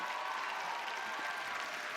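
Steady applause from a large audience of several hundred at a poetry slam final in a concert venue, a dense even wash of clapping sustained throughout without a break.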